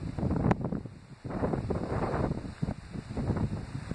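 Strong wind buffets a microphone outdoors at a training spot, coming in loud, uneven gusts of rumbling roar that rise and fall throughout, no talk.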